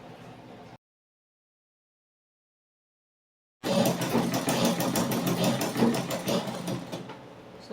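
A sewing machine runs steadily, stitching an ankara pencil skirt, loud and close for several seconds after a brief quiet stretch and a silent gap.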